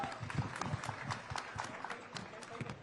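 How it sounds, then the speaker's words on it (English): An audience at a Sahitya Aaj Tak event claps in a dense, steady round of applause at moderate distance, with no single voice standing out. "Big round of applause, please."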